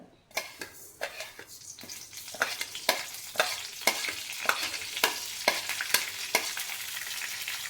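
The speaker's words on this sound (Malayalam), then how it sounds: "കടുക് ഇട്ടിക്കാനുള്ള ഓയിൽ ഒഴിച്ചു കടുക് ഇട്ടിക്കാൻ വേണ്ടിയിട്ട്" Mustard seeds splutter in hot oil in a pan, a fairly loud run of sharp, crackling pops at a quick, fairly regular pace over a constant frying hiss.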